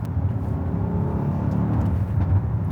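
A Brabus 800 S-Class, an 800 PS Mercedes, accelerates in S+ mode with a steady low engine rumble heard from inside the car, loud and sustained throughout with no talking.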